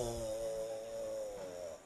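A voice imitates oil being drizzled into vinegar and Dijon mustard in a running blender: a steady, nasal hum with a slight wobble, held for about two seconds before tailing off.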